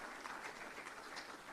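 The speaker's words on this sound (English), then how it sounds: "Please give him a round of applause." An audience applauds a speaker at an announcement event for a new National Baking Company facility, brief steady clapping heard softly from a distance.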